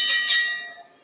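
A boxing ring bell at a live professional boxing event rings with two quick metallic strikes that shimmer and slowly decay, clear and alone.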